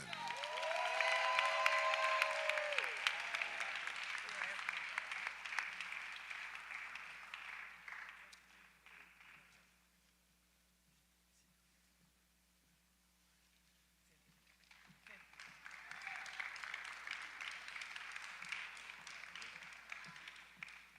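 An audience applauds a woman honored for 20 years of service at a college Founders Day event: sustained clapping with a few cheers that tapers to near silence, then a second round of steady applause rises and continues.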